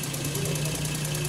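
A Suzuki Alto car engine runs steadily after an overhaul, giving a continuous close-up mechanical hum with a faint rapid ticking rhythm throughout, no talking over it.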